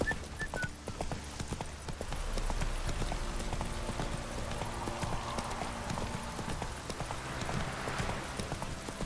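Roach the horse in The Witcher 3 trotting along, a quiet steady clip-clop of hooves over a low game soundscape.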